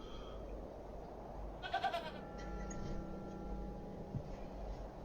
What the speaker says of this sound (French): I'm not fond of goats at the best of times, but this one seems particularly disagreeable.